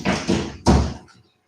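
A door swings shut in a room where a car's seats are being removed, giving a couple of soft bumps followed by one louder, close thud that fades quickly into quiet.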